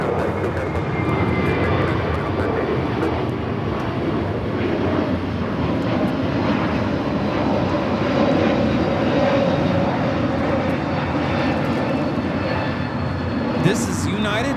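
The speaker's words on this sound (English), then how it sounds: "2113 taking off to Chicago on the A321neo" A United Airlines Airbus A321neo roars steadily on its takeoff run at Los Angeles airport, a loud, sustained broadband engine rumble that swells slightly midway and holds throughout.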